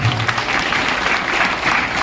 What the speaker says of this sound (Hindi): एक बार जोरदार ताली बजा दो आप।